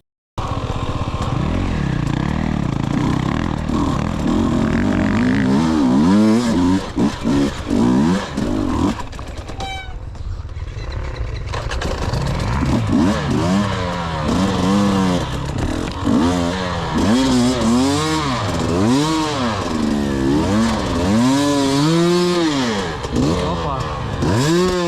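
A two-stroke Bombardier enduro motorcycle on a boggy, tussocky trail revs hard and repeatedly, its engine rising and falling in sharp wavering bursts close by, with a brief drop to idle partway through as the bike hangs up on its skid plate.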